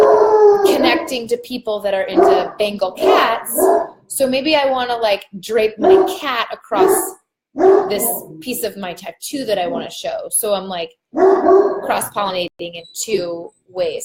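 Dogs barking and howling indoors during a live online talk, loud repeated barks and drawn-out howls mixed in with and under continuous speech throughout.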